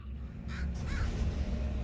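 A bird in a video game gives two short caws over a constant low ambient rumble.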